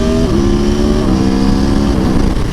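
A motorcycle with a quick shifter accelerates hard nearby, its loud engine note climbing in pitch and dropping sharply at each quick upshift, two rapid gear changes in a steady roar.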